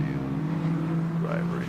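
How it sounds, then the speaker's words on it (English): Toyota race car exhaust in a racing video game, a steady droning engine note held at constant revs, with a rising pitch sweep near the end and talk over it. "Let's just listen to that exhaust out of the Toyota."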